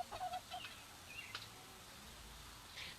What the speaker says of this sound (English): this is one of those Nankin roosters that we have right here